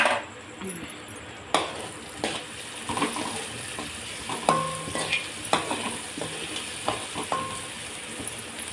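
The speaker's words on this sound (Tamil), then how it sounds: "இங்கே பாருங்கள் நல்லா வெங்காயம் பச்சை மிளகாயும் வணங்கிடுச்சு" Onions and green chillies fry in a pan with a steady sizzle, broken by repeated scraping and stirring clinks of a spoon against the metal, close and fairly quiet.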